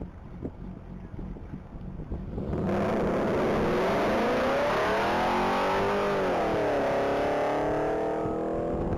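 A 2001 Chevrolet Corvette making around 600 horsepower runs flat out in a top-speed race. Its roar builds suddenly from faint wind noise into a loud, sustained drone that climbs in pitch and stays loud to the end.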